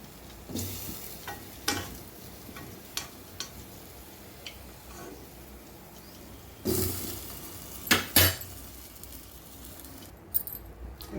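Gulab jamun fry in hot oil with a steady low sizzle, punctuated by scattered clinks and several louder knocks of a utensil against the pan.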